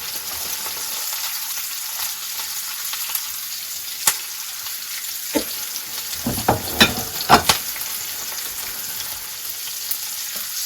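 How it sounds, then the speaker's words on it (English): Broccoli stems sizzle steadily in a hot pan alongside a searing salmon fillet, a broad hiss running throughout, with a cluster of sharper scraping stirs and clacks in the middle of the clip. "So let's give the broccoli stems a stir."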